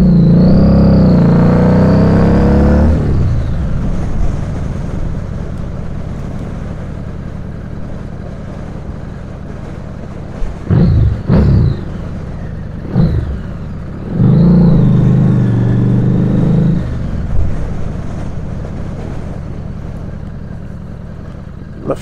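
Motorcycle rolling slowly with a steady engine hum and a whirring drone, with a couple of brief revving bursts and short rumbling surges along the way, no talking.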